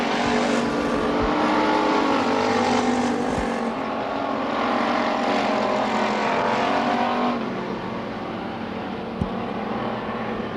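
Race cars at Billings Motorsports Park roaring down the back straightaway, a loud continuous engine drone with several cars passing close together and revving, steady throughout with a slight fade toward the end.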